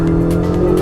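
A Ferrari or Lamborghini sports car at full throttle on a race track, a loud, sustained engine drone heard from inside the cabin with no break.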